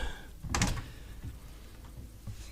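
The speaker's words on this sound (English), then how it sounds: "These are soft close drawers" A single soft thud of a soft-close drawer on a rustic wooden coffee table sliding shut around the midpoint, muffled and cushioned, followed by quiet room ambience.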